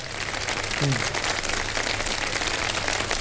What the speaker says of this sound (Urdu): ذرا ایک دفعہ تالیاں بجا دیں